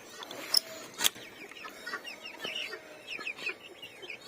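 Chickens in a backyard coop, kept alongside geese and silkie hens, cluck and chatter softly at close range, with a few sharper calls standing out over a quiet, steady background.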